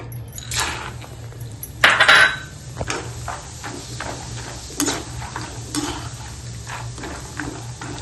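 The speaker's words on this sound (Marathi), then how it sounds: "आता मी शेंगदाणे भाजून घेते" Peanuts rattle and scrape in a metal pan with oil, with repeated clinks of a spatula stirring them and a brief louder clatter early on.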